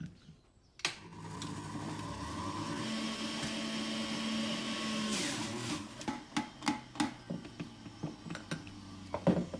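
An electric juicer whirs steadily while squeezing juice from four apples, its motor drone running loud and close, then giving way to a series of sharp knocks and clatters as it stops.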